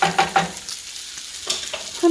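Bacon crisps in a pan with a decent pool of rendered fat, giving soft close sizzling and a few brief scraping stirs over about two seconds.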